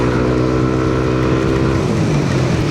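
A Yamaha Aerox V3 scooter fitted with a 4S1M Street Core exhaust pipe runs at high RPM, a loud, sustained buzzing drone held steady close to the machine with no talking.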